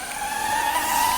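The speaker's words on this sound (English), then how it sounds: "Motor starting, let's take off slow." The motors of a DJI Neo drone spin up for takeoff with a steady, close, high-pitched whir and whine that holds level and rises slightly in strength over a short moment.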